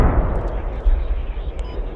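In the game Squad, an airstrike explodes over tanks on the Tallil Outskirts map, a loud, sustained, rumbling roar of blasts that fills the whole moment, with a voice faintly underneath.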